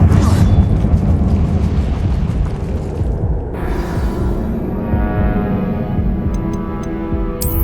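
A fire spell explodes in Hogwarts Legacy inside a mine, a heavy, loud, sustained rumbling boom that fills the space and then settles into a lingering crackling roar with faint tinkling debris toward the end.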